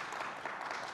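An audience claps at a technology talk, a brief, steady patter of many hands at moderate distance, fairly faint and continuous without any voices.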